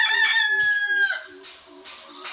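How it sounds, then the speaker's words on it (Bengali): Rooster crowing once inside a chicken house for free range chickens, one long loud close crow followed by soft repeated clucking from the flock. "এই যে এটা হচ্ছে আমার মুরগির ঘর।"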